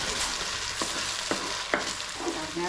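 Okra and other vegetables fry in oil for a tamarind curry, giving a continuous close sizzle broken by several sharp scrapes and knocks as they are stirred, with no talking.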